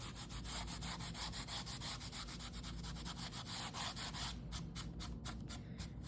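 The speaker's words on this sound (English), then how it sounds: "Just rubbing that on there." Yellow paint is rubbed onto wood with a moist wipe, giving steady, rhythmic back-and-forth rubbing strokes, close and continuous.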